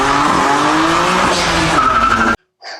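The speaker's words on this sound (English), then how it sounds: "opening up the sound of the S55, letting that sweet, sweet straight six sing" A loud, revving BMW S55 turbocharged straight-six engine with raspy exhaust and tire screech, rising in pitch, then cutting off abruptly before a brief short burst.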